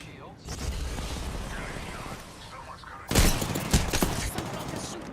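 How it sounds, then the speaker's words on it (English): Enemy gunfire in a video game: a steady noisy barrage of shots with heavier bursts near the end, layered under ongoing game sounds and a voice talking. "The enemies are shooting at me."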